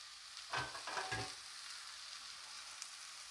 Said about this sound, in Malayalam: സവാള ഒന്ന് മൂത്ത് കഴിയുമ്പോൾ അതിലേക്ക് ചതച്ച് വെച്ചിരിക്കുന്ന ഇഞ്ചി ഇട്ട് കൊടുക്കാം.